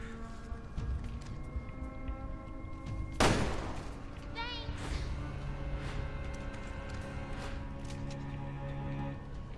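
Gunfire in the Resident Evil Revelations 2 video game: a single loud, sharp shot rings out over a continuous game soundscape with music and ambience, followed by lighter impacts.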